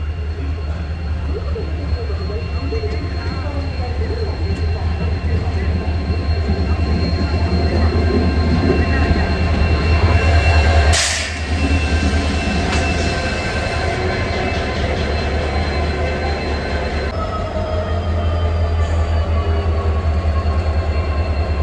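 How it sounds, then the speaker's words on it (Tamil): An ALCO WDP4 diesel locomotive rumbles steadily with a constant low drone in heavy rain on the Shoranur to Nilambur line, joined by a brief burst of hiss partway through. "டபிள்யூடிபி ஃபோர் டிங்க இன்னைக்கு நம்மளை புல் பண்ண போகிற இன்ஜின்"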